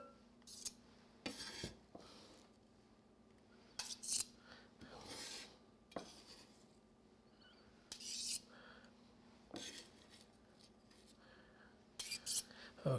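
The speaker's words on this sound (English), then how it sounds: "I'm going to use this big knife. Makes it a little bit easier to get in there." A big knife chops vegetables for homemade salsa, with sharp, irregular clicks and scrapes against a cutting board, close and fairly quiet, a few quick strokes scattered through the stretch.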